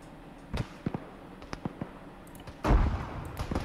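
A frag grenade bursts in the Arma 3 video game with a sudden heavy boom partway through, preceded by scattered sharp, distant gunshot-like cracks and followed by a fading rumble.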